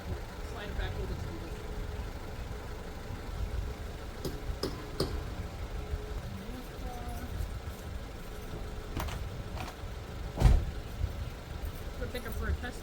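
A 1994 Acura Integra on a test drive after a CV axle replacement, its engine hum and road noise steady from inside the car, with a few ticks and a brief knock; someone talks over it.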